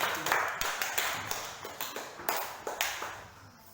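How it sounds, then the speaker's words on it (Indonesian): Students in an Indonesian classroom clap for a group in a short run of sharp, fairly regular claps, close and distinct. "Tepuk tangan dulu untuk kelompok 3"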